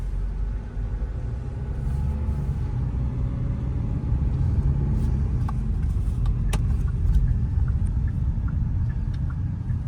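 A 2025 Hyundai Alcazar automatic sits at a diesel pump beside a roadside restaurant, with a steady low engine rumble throughout and a few faint clicks and taps.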